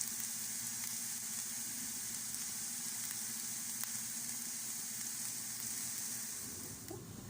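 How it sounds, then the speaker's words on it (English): Onions caramelizing in a pan for a homemade BBQ sauce give off a steady, close, even sizzle that holds without pause and eases off slightly at the very end. "I'm going to try to actually caramelize most of them"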